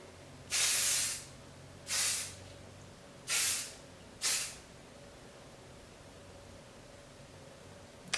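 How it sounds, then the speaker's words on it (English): Four short hissing bursts of hairspray from an aerosol can onto a styled pixie cut, evenly spaced, close by, over a quiet background hum. "I'm just going to give it a quick spray"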